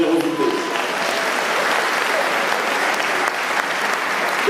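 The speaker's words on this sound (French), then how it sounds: "je voudrais vraiment, comme Patrice, que vous les applaudissiez avec générosité." Warm, sustained applause from diners at a French republican dinner, a dense, even wash of many hands clapping continuously at steady loudness.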